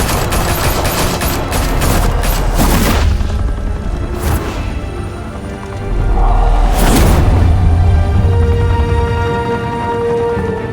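Sustained gunfire bursts from a Batman Telltale video game shootout, loud and dense throughout, with rapid overlapping shots and heavier booms punctuating the fire around a few points.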